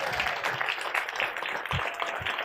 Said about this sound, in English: Ladies and gentlemen, give a huge round of applause to Jono and Ashley!